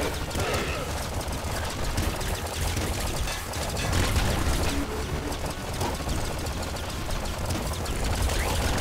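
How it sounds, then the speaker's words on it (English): Double minigun in the game Nuclear Throne firing in a dense, continuous rattling stream alongside busy game effects, loud and steady throughout with no pauses. "Really not doing so hot with this double minigun here"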